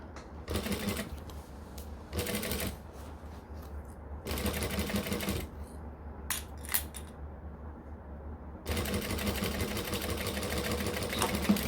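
Domestic sewing machine backstitching while a garment is sewn, in bursts of rapid mechanical stitching chatter that start and stop several times, with short quieter pauses and small handling clicks between runs.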